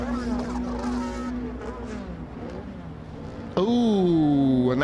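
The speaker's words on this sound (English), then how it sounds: "that sounds like a slight box full of neutrals there for Stefan Johansson." A historic racing car at Silverstone Festival whose gearbox misses shifts into neutral, the engine note flaring and falling, then a loud high revving burst near the end, with commentary over it.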